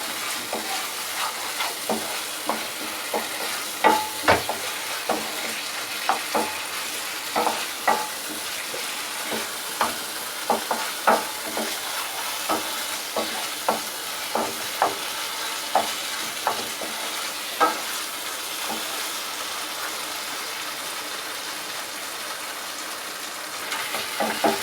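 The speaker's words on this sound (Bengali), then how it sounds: "এটা আমি কিন্তু ক্রমাগত নেড়ে যাচ্ছি" A ripe tomato and poppy seed mixture fries in oil as a spoon stirs it without pause, giving a constant sizzle broken by regular scraping strokes against the pan for a long stretch.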